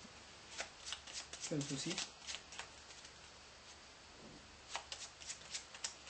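A deck of playing cards is shuffled during a card-trick routine in several quick, papery riffling bursts, close up, with talking in French around and between them.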